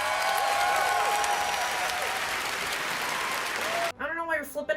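Crowd at E3 2019 cheering and applauding loudly, a dense sustained roar of clapping and shouts, followed at the end by a voice talking.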